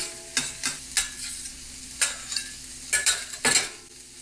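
Onions fry on a hot plate set to 300, a steady sizzle punctuated by several sharp scrapes and clacks of a utensil stirring and turning them, close and fairly loud, with no talking.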